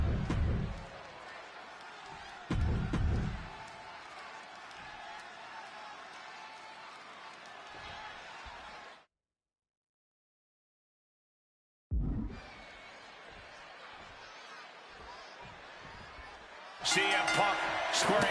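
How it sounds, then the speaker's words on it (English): An arena crowd in Chicago roars in WWE 2K26 for a match between two wrestlers. A steady, wide roar runs with occasional thumps and cuts out for a few seconds before resuming, with commentary voices over it. "just listen to this crowd here in Chicago"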